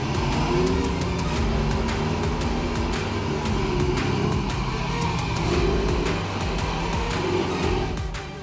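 Truck engines roar loudly and steadily while a heavy steel vehicle strains against a tow cable pulled to its limit, refusing to budge; the dense, continuous engine noise stays close throughout with no talk.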